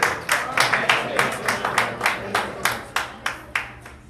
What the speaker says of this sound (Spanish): ¿Le pueden dar un aplauso a Cristo?